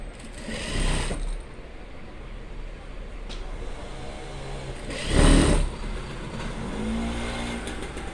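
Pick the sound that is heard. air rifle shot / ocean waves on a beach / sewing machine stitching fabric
sewing machine stitching fabric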